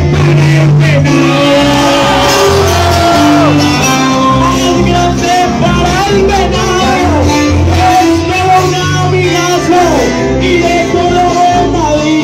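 A crowd at a festive village gathering shouts and cheers in a loud, continuous roar with rising whoops and yells, close and dense throughout.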